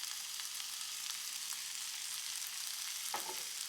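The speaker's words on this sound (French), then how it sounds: "On mélange tout ça" Onions frying in a pan with turmeric, pepper and salt being stirred in, a steady soft sizzle throughout with a single scrape of the spoon near the end.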